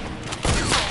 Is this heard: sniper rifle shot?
yes